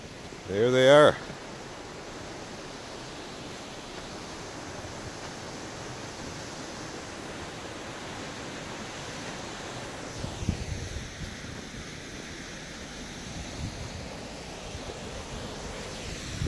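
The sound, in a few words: waterfall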